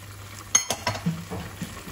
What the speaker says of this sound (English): Now we're gonna add the turmeric, the rest of it, and the rest of the salt.